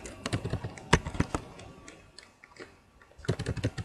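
Keys clatter on a computer keyboard in quick irregular bursts, a cluster near the start, a lone tap or two mid-way, then another rapid flurry at the end, close and moderately loud with no talking.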